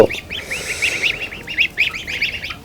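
Young goslings on a duck farm give rapid, repeated high-pitched peeping calls in quick bursts, fairly close, over a low background rumble.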